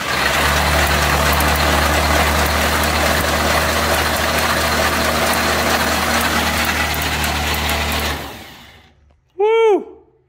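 Abandoned, fire-burnt Chevy Nova engine cranking and running roughly for about eight seconds, loud and steady near the mic, then cutting out to silence before a brief whistle-like tone.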